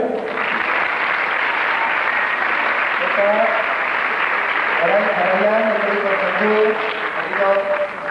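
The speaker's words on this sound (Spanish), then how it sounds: "Y un aplauso para ellos" Audience applause for folk dancers at a 1998 folklore festival dance day, a steady dense wash of clapping throughout with voices speaking over it.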